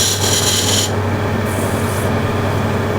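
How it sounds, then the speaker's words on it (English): A spear point tool scrapes steadily into Osage orange wood on a lathe, cutting a V-groove with a loud, continuous, close rasping hiss over a low drone. "So with the spear point, I'll just make a V-groove here."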